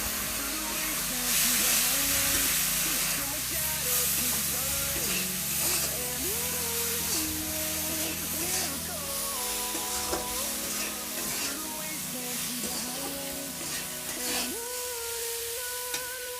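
Water poured into a simmering potol and egg curry masala brings up a sustained hiss of sizzle and steam alongside stirring, with someone talking over the cooking for most of the stretch.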